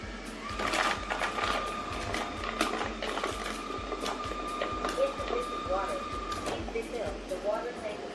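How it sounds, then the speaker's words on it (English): A Xiaomi Essential robot vacuum cleaner whirs steadily with a regular ticking, clicking rhythm close by, and faint voices murmur in the background. "we will show you a short vacuum demo."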